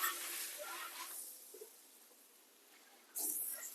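Smash burgers sizzle on a Blackstone flat-top griddle, a faint hissing fry that fades to near quiet midway before a sharper burst of sizzle returns near the end.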